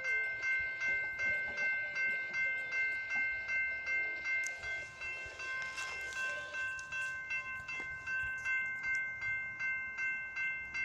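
Amtrak California Talgo trainset hauled by F59PHI locomotive #463 rolling past at a distance, with steady rumble, rhythmic clickety-clack of wheels and faint ringing tones throughout.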